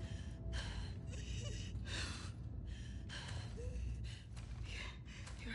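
Labored, heavy breathing from a wounded character in The Last of Us Part II, a steady series of ragged gasping breaths close up, roughly one every half second, over a low background rumble.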